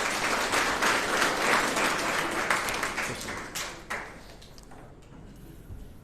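An audience at a student felicitation ceremony claps loudly and steadily, a dense roar of hands that gradually thins out into scattered claps toward the end.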